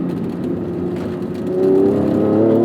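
A 1992 Acura NSX with shorter gearing and a JDM final drive accelerates through the Malibu canyons, its engine drone steady and close, then swelling louder as revs climb.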